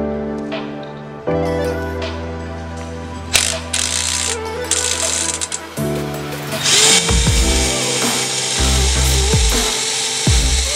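A nut is run down onto a bolt over a washer and lock washer with a ratchet, giving loud, close mechanical clicking and whirring bursts that start and stop over several seconds.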